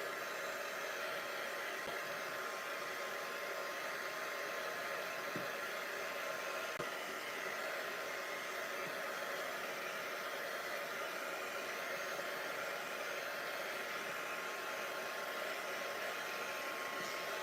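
Heat tool blowing a steady, loud stream of hot air as it melts embossing powder on a stamped star card, a continuous hiss-like roar with no pauses or talk.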